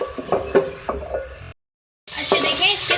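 Tomatoes tipped into a hot frying pan for a vegetable curry: scraping stirs and clatters of the pan, a brief cut, then a loud bright hiss of sizzling oil close by.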